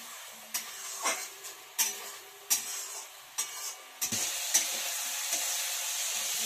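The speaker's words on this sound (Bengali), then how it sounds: "এগুলো দিয়ে এখন এটাকে একটু কষাতে হবে, টমেটোর কাঁচা গন্ধটা যেন চলে যায়।" Spice paste and tomato stir-fried in a pan for a cauliflower and bata fish curry, a spatula scraping in short repeated strokes over a steady sizzle that grows louder near the end.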